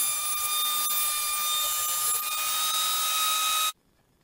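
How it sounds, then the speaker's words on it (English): Thickness planer running through laminated wood coaster pieces, a steady high whine with cutting noise lasting several seconds before stopping abruptly. "planed these things down to the point where I can get them into my thickness planer"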